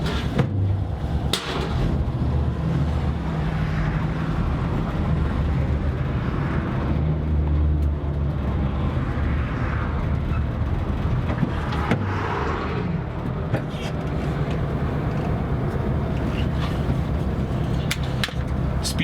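Late-model Volkswagen bay window bus with a fuel-injected 2-liter engine driving on the road, its steady low engine drone and road rumble continuous throughout with a few brief clicks and rattles from inside the cabin.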